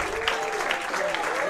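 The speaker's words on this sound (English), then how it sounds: "And you hear the crowd into this right now." A crowd at a PBA50 bowling stepladder final applauds and cheers a shot: steady, moderately loud clapping, with a commentator speaking over it.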